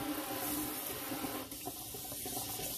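Steady water runs from an RV kitchen faucet with a pull-out sprayer, a constant, moderately close hiss and splash that shifts slightly partway through.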